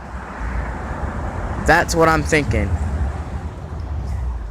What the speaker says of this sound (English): Winds right now probably, I'm guessing, are around 40-50 miles per hour. It's pretty strong.